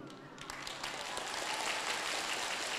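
An audience claps together during a Buddhist sermon, a dense, steady wash of applause that swells slightly and holds at moderate loudness throughout.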